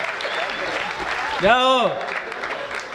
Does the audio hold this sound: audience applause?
yes